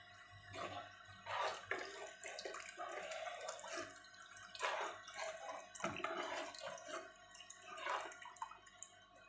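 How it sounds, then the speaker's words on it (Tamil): Water is poured into a simmering tamarind curry in a home kitchen, giving irregular splashing and trickling bursts at moderate volume, close by, spread across the whole stretch with short pauses between pours. "நம்ம தேவைக்கு தண்ணி ஊற்றிக்கலாம்."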